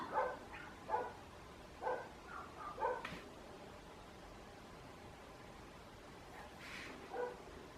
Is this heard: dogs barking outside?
yes